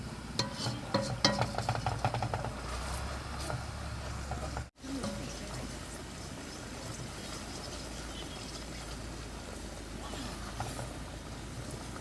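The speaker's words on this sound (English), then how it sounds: "Now we stir this one until those 2 ingredients are combined." Panang beef curry paste being stirred in a hot pan as natural oil comes out, with a steady soft scraping and low sizzle running throughout, briefly interrupted mid-clip.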